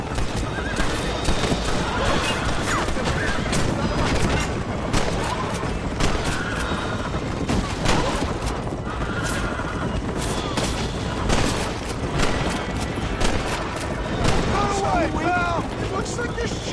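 Bandits open fire in the Western game Red Dead Redemption, with rapid gunshots crackling through a busy scene of galloping hooves and whinnying horses. Voices speak over the din.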